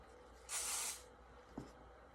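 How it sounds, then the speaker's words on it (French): Hairspray misted onto styled hair to hold it in place: one short, soft aerosol hiss of about half a second, then a faint small knock in a quiet room. "Je vais mettre ensuite du spray pour le garder plus stable."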